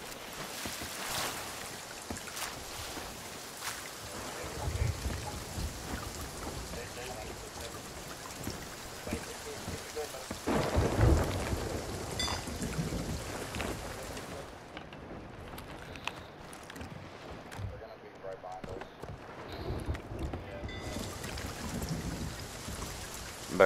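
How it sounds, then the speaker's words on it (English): Steady rain with low rumbling thunder in the pirate game Sea of Thieves, a broad continuous wash that swells around the middle, with faint voices and game sounds mixed in. "Well, that's the rain."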